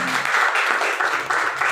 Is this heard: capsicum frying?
no